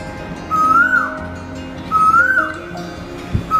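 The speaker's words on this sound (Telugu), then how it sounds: "మొదటగా కోకిల," A cuckoo call in a bedtime story rings out as two clear, rising whistled notes, each held about half a second, with a pause between them over a soft background.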